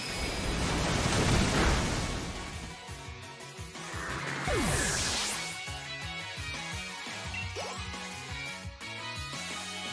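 Gyarados unleashes the Waterfall move in the Pokémon Sword and Shield video game, a loud rushing water-like wash of noise followed by a sweeping effect and rhythmic game music beneath, all without voices.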